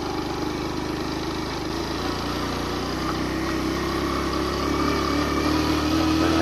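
Suzuki GN 125 off-road motorcycle engine catching and running with a passenger aboard, a steady buzzing idle that holds close and loud throughout without pause.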